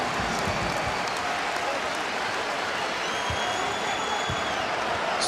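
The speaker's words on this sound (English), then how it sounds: "This crowd starts to make some noise" A basketball arena crowd at the Hartford Civic Center cheers and claps during a UConn game against Indiana, a steady, loud roar of many voices with scattered whistles, close and filling the space.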